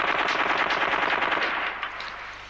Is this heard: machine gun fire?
yes